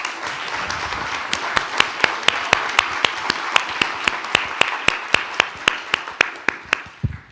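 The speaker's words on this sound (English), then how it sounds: "if everybody will give Brian a huge round of applause" An audience claps for Brian at a 2024 keynote, with dense applause that thins into a few loud, separate, evenly spaced claps near the end. No one speaks over it.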